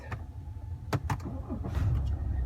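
A BMW with an automatic ZF gearbox is started with its push button, giving a few faint clicks and a short whirring crank before the engine catches into a low, steady idle.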